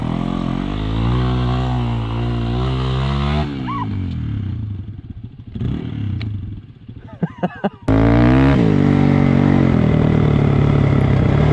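A dual sport motorcycle roars up close on a forest trail in Michigan's Upper Peninsula. The engine climbs steadily, eases off with some clatter, then surges loudly again.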